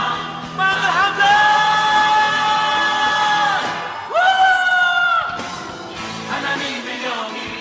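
A church congregation at a worship service lets out a loud, sustained roar of shouting and whoops, swelling in two long bursts and then trailing off.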